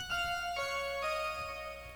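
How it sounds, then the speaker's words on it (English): A Korg Minilogue synthesizer plays a sequence of sustained tonal notes with rich harmonics, each new note entering about every half second, quiet and clean with no voices. "We have some synthesizers, more from this Korg mini log."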